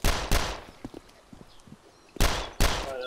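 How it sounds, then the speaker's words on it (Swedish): Loud gunshots ring out in the DayZ video game, two broadband blasts at the start and two more near the end, with faint scattered game noises in between and no voices. "Jag kommer skjuta nu"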